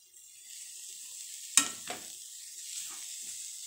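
Spice powders being stirred into samosa filling in a pan, a steady soft sizzle with a sharp utensil scrape near the middle and light stirring after.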